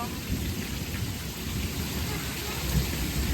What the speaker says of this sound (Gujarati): એ વીજ ના ભડાકા કેમ થાય